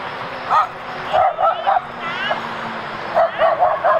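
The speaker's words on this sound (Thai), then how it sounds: "แล้วก็จะมีหมาเห่า" Dogs bark and yip in short bursts during a jog, fairly close, with whimpering tones between barks and someone talking over parts of it.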